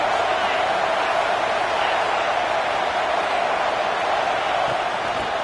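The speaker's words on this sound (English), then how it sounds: "this home crowd is fired up and ready to make a difference" A home crowd at an LSU football game roars as a steady, dense, distant wash of noise that holds at an even level throughout.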